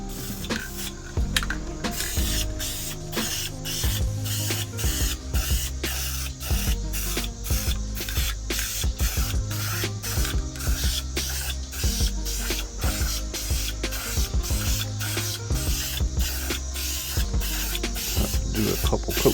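Coating sprayed from an aerosol can onto a Dodge Journey engine bay, a close hissing spray broken into rapid short bursts in a steady rhythm for the whole stretch.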